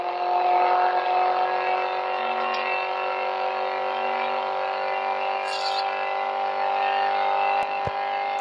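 BMW M3 E46 Coupe with its straight-six engine pulling hard under kickdown, a steady loud droning exhaust and engine note held close and continuous throughout, with no talking.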